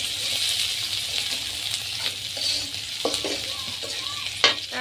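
Green chillies and whole garam masala spices hit hot oil for a village-style duck and potato curry, giving a steady, close sizzle with scattered stirring scrapes and one sharper clank near the end.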